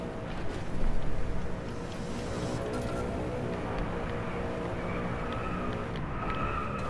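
In the Drive Gear racing game, a BMW M3 GTS brakes hard: a brief loud surge of engine and tire noise, then a steady roaring drone that continues to the end.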